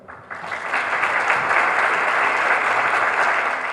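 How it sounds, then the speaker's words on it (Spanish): An audience at a talk in Tucumán bursts into loud, sustained applause: a dense wash of clapping that swells in the first half second and holds steady to the end, with no speech. "un fuerte aplauso"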